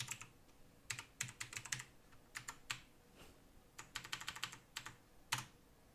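Quick, light keystrokes on a computer keyboard come in short clusters of taps with brief pauses between them, close and fairly quiet.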